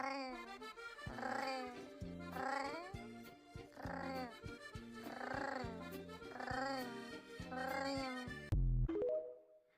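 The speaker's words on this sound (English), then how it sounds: "They let me get the satisfaction of hearing this cat be cute." A cat meowing, played back from a video: a string of drawn-out, rising and falling meows one after another, clear and fairly close, ending with a short cut-off sound.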